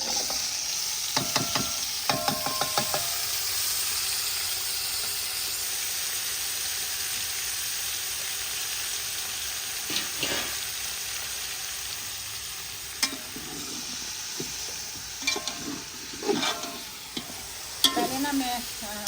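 Meat and vegetables frying and being stirred in a pan, a steady sizzle throughout with occasional scraping and clinking of utensils.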